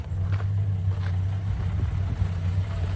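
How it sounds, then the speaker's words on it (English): A VJ Dodge ute engine runs steadily at a low, even idle, fairly close and alone with no voices, a continuous deep rumble throughout. "Can't believe the sound of that engine now."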